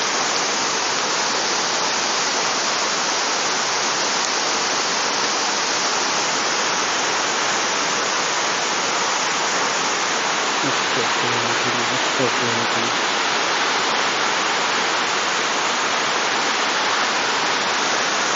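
A waterfall pours steadily, its broadband cascading roar loud and unbroken throughout, with faint low murmurs briefly rising beneath it.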